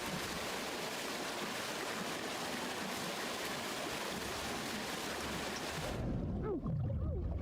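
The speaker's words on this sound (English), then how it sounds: "I'm wading through water." Water sloshing and rushing steadily as a character wades through it in an atmospheric horror game, broad and continuous, then cutting to a quieter, darker underwater-like rumble near the end.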